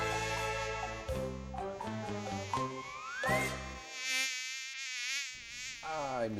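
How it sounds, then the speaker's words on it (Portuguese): A loud, close insect buzz, like mosquitoes swarming in Campo Verde, Cariacica, whines in shifting pitches, rising and dipping with brief pauses. "Enquanto os mosquitos tomam conta e o problema não se resolve"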